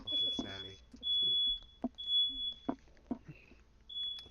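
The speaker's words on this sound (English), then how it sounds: "Whose fire alarm is going off?" A household smoke alarm shrills in repeated high-pitched beeps with short gaps between them, while people talk and laugh nearby.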